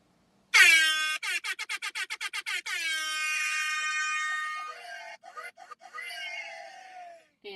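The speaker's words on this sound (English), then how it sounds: "let's give Grant his air horn" A loud air horn blasts alone during a riverside goat live stream: a rapid burst of about a dozen short toots, then one long sustained wail that wavers and breaks into a few stuttering honks before fading.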